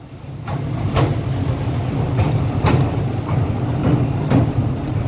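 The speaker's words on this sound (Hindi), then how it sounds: "पाकिस्तान रेलवेज़ की ट्रेन जा रही है" A Pakistan Railways train crosses Kotri Bridge over the Indus River, with a steady heavy rumble and regular clacking wheel beats, plus a brief high metallic squeal, close and loud.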